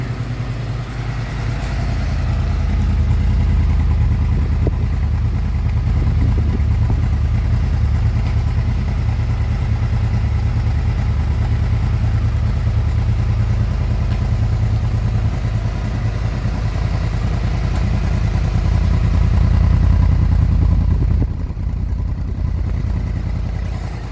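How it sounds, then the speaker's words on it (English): A Honda VFR V4 motorcycle engine warms up after a cold start, idling with a steady, deep, throbbing rumble that stays loud and close throughout, with no voices. "The beat of a V4 is so unique and so awesome"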